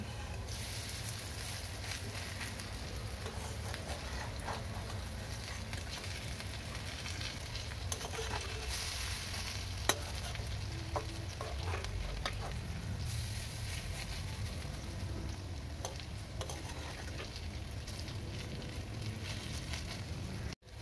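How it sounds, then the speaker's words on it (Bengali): Food sizzles steadily as it fries in a pan, a continuous close hiss and crackle of hot oil that stays even throughout, broken by a few faint clicks and no talk. "দু পাশটা ভাজা হয়ে গেলে"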